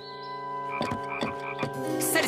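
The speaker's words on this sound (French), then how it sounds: "Vous n'avez qu'à trouver la grenouille." A frog croaks in a find-the-frog game, three pulsed, fairly loud croaks over a steady humming tone, ending in a bright flourish, with no voices.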